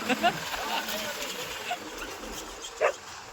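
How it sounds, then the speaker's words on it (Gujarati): A dog gives a few short barks and yips near a farm field during sowing work, sounding moderately close over a steady outdoor background. "અને હા બાજુ કૂતરું."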